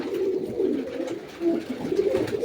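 Soft, low pigeon cooing rolls on steadily, several birds overlapping in a gentle throaty murmur, close by with faint background noise.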